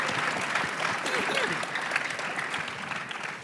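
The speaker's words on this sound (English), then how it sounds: "everybody deserves a round of applause" An audience at a panel event at the Brentwood School claps in a steady round of applause, moderately loud and sustained, gradually easing off toward the end with faint voices mixed in.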